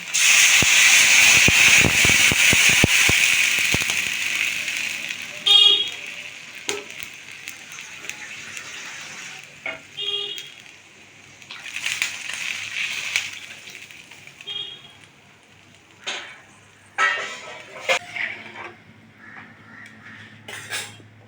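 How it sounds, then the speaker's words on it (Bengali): Water poured into a pan of frying taro and okra sets off a loud, close hiss that lasts about five seconds, then gives way to quieter bubbling and scattered clinks of a utensil against the pan. "কচুটা ঢ্যাঁড়সটা একটু ভাজা ভাজা হয়ে গেছে এবার জল দিয়ে দিলাম"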